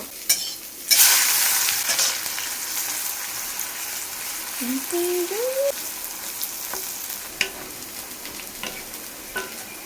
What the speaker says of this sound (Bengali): কত তাড়াতাড়ি বেরিস্তাগুলো ভাজা হয়ে যাচ্ছে দেখুন